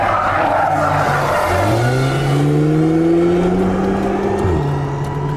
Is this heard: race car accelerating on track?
yes